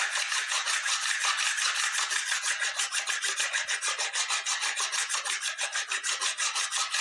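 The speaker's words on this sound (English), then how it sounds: "taking the crosscut file and staying very much, not even turning this file," A crosscut file rasps back and forth across the wooden body of a 1958 Goldtop Explorer replica guitar in quick, even strokes, a close, steady scraping rhythm with no voices.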